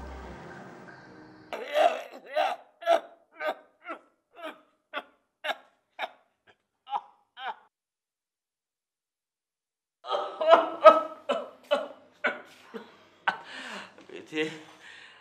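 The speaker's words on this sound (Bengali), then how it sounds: "কাশিটা মনে হয় আমারে আর বাঁচতে দিব না" A man coughs in a long run of short, evenly spaced coughs, pauses briefly, then breaks into another harsher burst of coughing.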